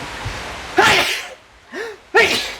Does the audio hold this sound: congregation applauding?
no